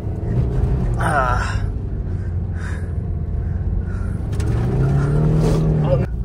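A two-wheel-drive car is driven hard along a rough, muddy road near a dam after sudden rain, its engine droning loudly and steadily and rising in pitch as it revs, while voices talk over it.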